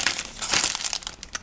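A plastic bag crinkles and rustles as chopped polymer clay is tipped in, giving close, irregular crackling bursts with no talking.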